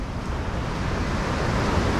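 Sea surf rolling onto a pebble beach at Lazarevskoye near Sochi, heard as a steady, loud broadband wash with no distinct breaks, close to the microphone and without voices.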